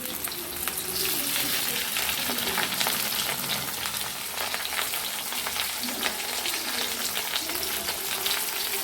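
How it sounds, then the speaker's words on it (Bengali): Potatoes frying in oil seasoned with turmeric and salt, a steady close sizzle with crackling bursts and occasional stirring throughout, no talk. "আলুগুলোকে আমরা হলুদ লবণ দিয়ে লাল লাল করে ভেজে নেব।"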